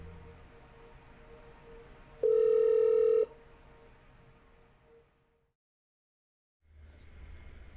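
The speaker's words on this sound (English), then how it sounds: "The call rings on the Montreal test phone." A Montreal test phone receiving a forwarded call: one long steady ringback tone lasting about a second over faint line hiss, then a fade to silence before a burst of noise returns.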